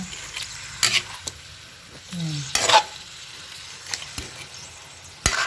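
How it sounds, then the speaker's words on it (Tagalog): Ground meat sizzles in a small amount of oil in a pan, with intermittent scraping stirs and a few clinks of a utensil against the pan between quieter stretches of soft frying. "Piniprito ko ng sa konti lang yung mantika na yun."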